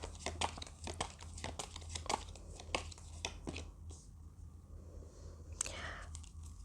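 Tarot cards are handled for a reading, with close, continuous crinkly shuffling and papery rustles and a few sharper flicks, all fairly quiet.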